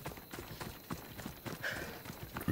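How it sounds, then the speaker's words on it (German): Horse hooves clip-clop in a steady trotting rhythm in the video game Assassin's Creed Odyssey, moderately close, with faint game ambience and no talking. "Pferdchen."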